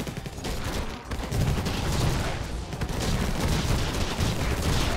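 Dense, loud volleys of gunfire blast at aliens in the top-down shooter Infested Planet, a continuous fusillade with rapid overlapping shots and brief dips in intensity.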